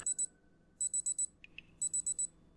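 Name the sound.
beeping from a video game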